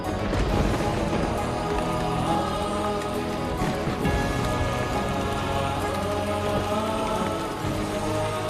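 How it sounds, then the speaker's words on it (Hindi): Heavy rain pours down in a dense, steady hiss of drops striking surfaces, loud and unbroken throughout, with no voices. "कितनी तेज बारिश है आज"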